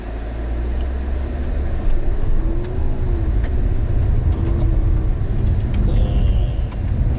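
Proton X70 SUV, a 2020 CKD model with a 7-speed dual-clutch gearbox, driving through a slalom course, its engine hum and tyre noise steady and close throughout, with faint voices in the cabin.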